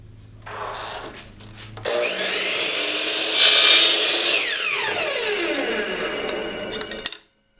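Power saw cutting wooden sticks at a 22.5-degree miter for a top bar brood frame, a loud sustained whining cut that spins up, peaks, then winds down with a clunk.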